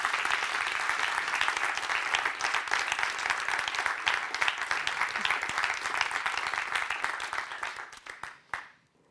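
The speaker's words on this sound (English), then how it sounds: "give a big applause to our AISTS staff" A graduation ceremony audience applauds steadily, dense and loud for several seconds, then the clapping thins out and fades to silence.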